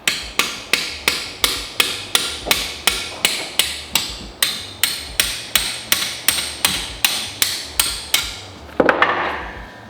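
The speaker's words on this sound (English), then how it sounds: "I normally take a long 3 or 1/4 inch extension, kind of feed it in, and then tap out the old wrist pin." Steady metallic hammer taps on a long 1/4 inch extension driving the wrist pin out of a Subaru WRX STI piston, about twenty evenly spaced loud close strikes, ending with a brief clatter as the pin comes free.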